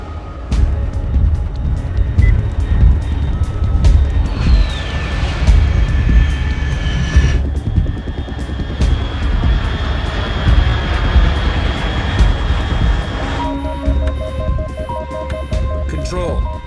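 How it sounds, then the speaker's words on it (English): Aircraft flying overhead in the Metal Gear Solid 3 game, a sustained roaring engine drone with tonal whine, heard under game dialogue and musical tones. "Unidentified aircraft detected."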